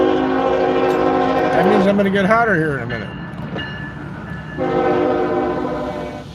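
Train horn blasting in rising, bending tones close by as a train passes, with a steady rumble of rail cars underneath, while someone talks over it from inside a vehicle.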